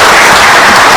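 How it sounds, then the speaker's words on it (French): An audience applauds a government minister at a political party gathering, a dense, steady wash of many hands clapping together for about a second, loud and close, with no voices standing out. "qu'on peut applaudir encore"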